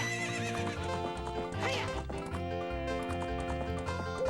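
Epona, the horse in the video game The Legend of Zelda: Ocarina of Time, gives a loud, wavering whinny over game background music, with faint hoof clip-clops around it.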